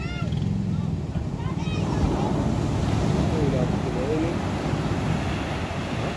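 Heavy ocean surf and rushing water around a boat, with steady wind buffeting the microphone and voices talking over the roar.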